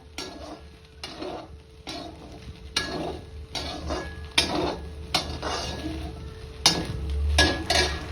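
Whole spices and tempering crackling in a hot pan with stirring, for fried phool badiyan in a home kitchen; repeated bursts of sizzle and metal scraping recur every second or so, close and moderately loud, with no talk.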